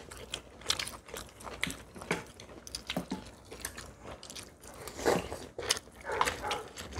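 Someone eats squid gochujang stew with grilled pollack and seasoned pepper-leaf greens, making close, wet chewing and biting sounds with occasional crunches in a steady rhythm and no talking.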